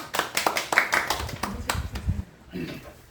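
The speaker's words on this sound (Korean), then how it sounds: "오늘 마지막 실습생 정순복 선생님 향해서 우리 박수 한번 치겠습니다" People gathered at a social worker training session give a short round of applause for a student trainee, a handful of distinct, fairly close handclaps in an uneven rhythm that quickly fades, with a voice briefly heard after.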